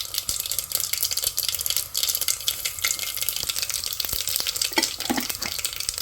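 Mustard seeds and cumin sputter and crackle in hot oil for sambar, a steady dense sizzle with scattered sharp pops throughout, close and fairly loud, no voices.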